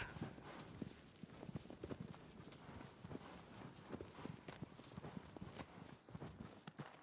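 Horse hooves clip-clopping at a steady rapid pace in the video game Shadow of the Colossus, an even run of soft, muffled beats lasting several seconds with no talking.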